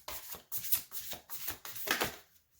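A deck of tarot cards is shuffled close up, in several quick riffling bursts separated by short pauses.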